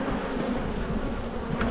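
Honey bees swarm in a dense, continuous buzzing drone around an open hive being inspected, loud and close, with no voices over it.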